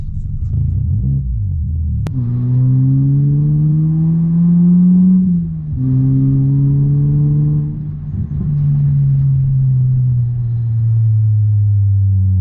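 A Peugeot 308 fitted with a new exhaust idles and revs, a loud, deep, close drone that rises and falls in pitch over several throttle blips, with a sharp click near the start.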